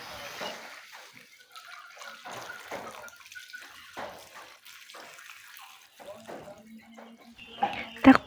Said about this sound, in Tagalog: At lagyan na din natin ito ng tubig.